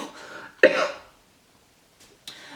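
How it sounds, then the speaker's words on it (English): A person with a lingering illness and a hoarse, lost voice coughs once sharply and loudly, then again more briefly after a quiet pause, with a faint voice before the first cough. "There will probably be cuts or edits in this episode because I am coughing."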